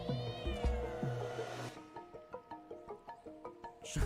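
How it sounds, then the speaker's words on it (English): Cat meowing in a PlayStation video game, one long drawn-out meow at the start followed by a run of short, rhythmic musical notes, quiet and close with no talk over it. "there's not too much I can say about a cat moving around and jumping"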